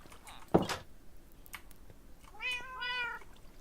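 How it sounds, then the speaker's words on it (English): Video-game cats meow: after a sharp knock near the start, two drawn-out, tonal meows follow a moment apart, fairly clear against a quiet background. "Am I going to be beset by the sounds of cats when I'm trying to sleep?"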